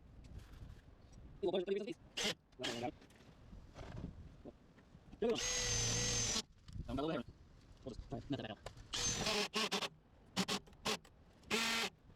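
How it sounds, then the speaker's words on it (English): A hammer drill used during a 1983 Chevy wrecker restoration runs in short bursts and one sustained, loud whirring stretch, broken up by gaps and other workshop clatter, with someone talking between runs. "Turn my hammer drill down some."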